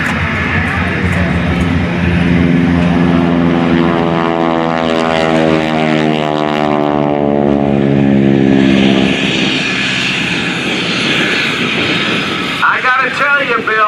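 A T-6 Texan propeller airplane roars past low overhead at an airshow, its droning pitch sweeping down as it passes, fading away before a voice speaks at the end.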